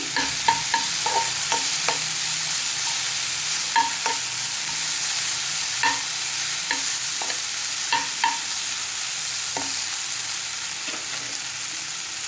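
A cucumber, sesame seed and tamarind mixture for a roti chutney is stirred in a hot pan, with loud, steady hissing and a series of sharp spoon-on-pan scrapes and knocks spaced a second or two apart; no voices.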